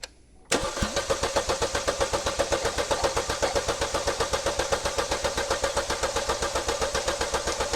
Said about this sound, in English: Now I've got an assistant inside the vehicle, and we're going to crank it